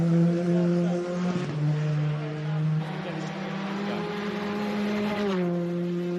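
Rally car on a tarmac stage at Rally Tasmania's Preolenna stage, engine droning loud and steady with rising and falling pitch as it shifts gears and pushes hard, close by with no talk.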